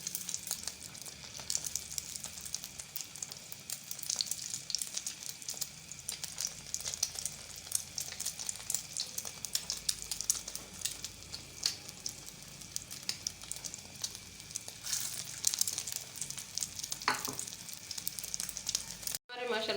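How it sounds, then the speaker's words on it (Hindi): Egg-dipped chicken shami kebabs shallow frying in oil, giving a continuous low crackling sizzle heard fairly faintly and at a steady level throughout. "अब इनको अंडे में डिप करेंगे और शैलो फ्राई करेंगे"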